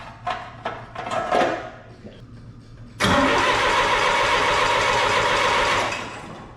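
A 1972 Allis Chalmers M65 road grader's engine is started: a few clicks and rattles come first, then the engine catches loudly and runs steadily for about three seconds before dropping off, heard close up without talking.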